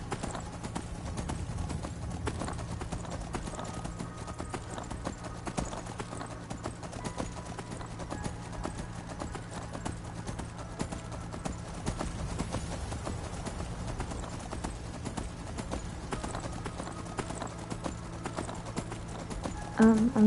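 A horse gallops in the video game Skyrim, its hooves pounding in a steady, continuous clip-clop rhythm at moderate volume for the full twenty seconds.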